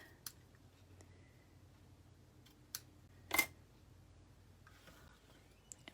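Craft snips trim a piece of sheer ribbon on a handmade card, giving a few quiet, sparse clicks and one sharper snip in an otherwise hushed room.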